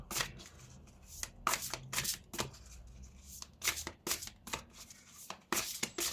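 Tarot or oracle cards being shuffled during a fairy-themed card reading, heard close up as a series of quick, irregular papery riffles and snaps in separate bursts against a quiet background.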